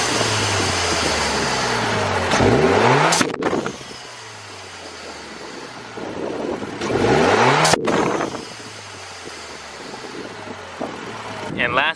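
Ralliart Evo with a GFB Respons blow-off valve set to vent fully to atmosphere: the engine revs up twice, and each climb ends in a sharp, loud whoosh of released air before settling back to idle.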